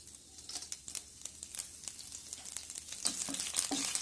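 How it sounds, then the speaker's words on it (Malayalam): Mustard seeds, curry leaves and dried chillies crackle and splutter in a tablespoon of hot oil in a pan, sharp pops and hissing sizzle building steadily, close and alone without talk. "ഇരിക്കുന്ന കടുകും കരിവേപ്പിലയും മുളകും പൊട്ടിച്ച് ഇടുക."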